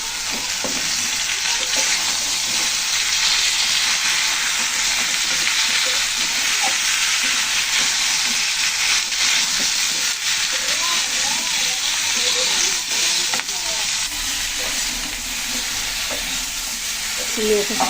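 Shrimp and potatoes frying in a pan, a loud continuous close sizzle with occasional stirring scrapes, steady throughout.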